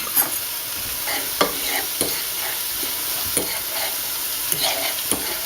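A sizzling mixture with balsamic vinegar is stirred in a pan: a constant bright hiss with repeated scraping and tapping strokes of the utensil at an uneven rhythm.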